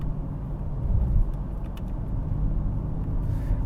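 A 2022 Dodge Challenger with a 6.4-liter Hemi V8 driving on a street, its engine a steady low rumble heard from inside the cabin, swelling slightly early on and then holding an even drone.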